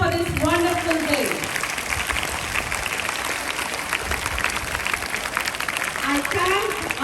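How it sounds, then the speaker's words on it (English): Students at a school Children's Day event clap their hands in a long, steady burst of applause, with a voice speaking over the start and again near the end. "A big hand clap for this wonderful day"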